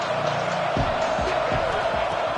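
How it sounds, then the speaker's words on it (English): A football stadium crowd in a video game roars in a steady dense wash of cheering, with a few low thumps and bursts rising out of the noise. "3rd down and the crowd really getting into it."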